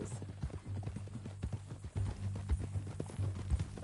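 Horse hooves clip-clop steadily in Red Dead Redemption 2, a rhythmic trotting patter over a low, rumbling game background, close and fairly quiet.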